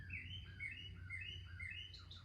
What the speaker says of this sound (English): And listen to these birds go.